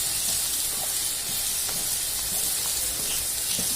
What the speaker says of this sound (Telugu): ఈ కారము, ధనియాల పౌడరు, పసుపు, ఉప్పు అంతా వేయిస్తున్నాను.